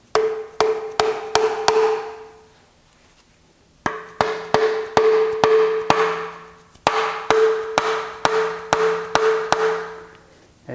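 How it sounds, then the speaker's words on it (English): A hammer taps a putty knife wedged under the engine cover of a Chrysler 3.2/3.6 Pentastar, in three quick bursts of sharp metallic strikes, each run of about five to six hits separated by brief pauses. "start tapping on it with a hammer."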